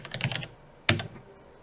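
Quick typing on a computer keyboard: a short cluster of light key clicks, a pause, then a louder pair of keystrokes up close.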